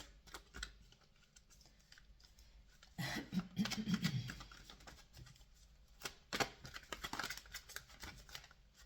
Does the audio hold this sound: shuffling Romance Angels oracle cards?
yes